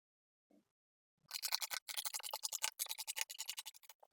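Scissors snip through satin fabric while a bonnet is cut out, giving a near, rapid run of crisp ticking cuts after one small sound and a short pause, with no talk.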